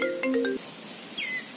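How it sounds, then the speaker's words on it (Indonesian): A mobile phone rings for an incoming call, playing a short electronic melody of a few bright tones, then a single rising chirp after a brief pause, fairly clear with no talking. "bade ngangkat telepon heula"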